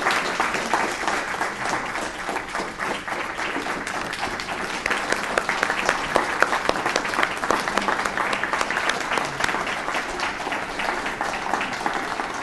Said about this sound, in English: The applause speaks for itself.